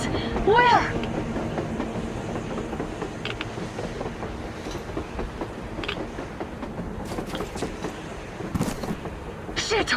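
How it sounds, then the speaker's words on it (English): Train running on the surface in Metro Exodus, a steady rolling rumble with rail clatter throughout, under a brief high whistle-like tone and occasional voices. "A train! A damn train on the surface!"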